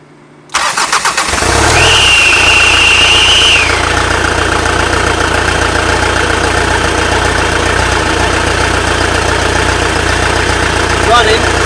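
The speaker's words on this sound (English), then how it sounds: "Running, it does sound a bit rough. Sounds like there's a misfire." A Land Rover engine cranks briefly and catches, then settles into a loud, uneven idle with a rough, misfiring stumble, a high whine fading after a couple of seconds.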